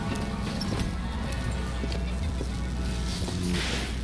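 Sparking electric horse in the video game Bioshock Infinite, a steady run of hoof clip-clops with crackling noise, loud and continuous across the whole stretch.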